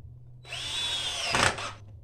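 A power drill whines up briefly, driving a screw into a chair built from a tire, a single close burst lasting just over a second with a strain near the end.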